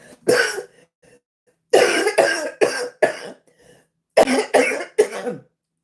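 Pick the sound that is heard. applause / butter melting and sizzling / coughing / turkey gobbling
coughing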